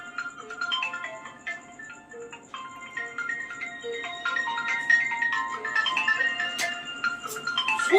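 A mobile phone left lying in a home rings with a bright, looping electronic melody of repeated tonal phrases, loud and steady throughout, with faint voices briefly underneath.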